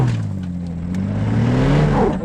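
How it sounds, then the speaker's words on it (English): An all-wheel-drive SUV revs hard off-road at Mount Mee as one wheel spins without grip, its engine note droning close and steady, then climbing in pitch toward the end with faint scrabbling texture. "That's just spinning out. Tripping out. It just spins that one wheel."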